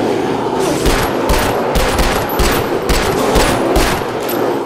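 Rapid automatic gunfire in Far Cry 4 fired at a bear, a steady loud stream of closely spaced shots with no pause across several seconds.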